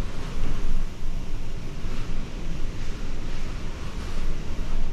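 Typhoon Mawar's wind and rain lashing the outside of a house, a loud, continuous roar of gusting wind and pounding rain that surges and eases in waves with no voices.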